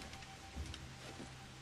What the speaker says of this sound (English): Oh, it's raining! It's raining in Kingston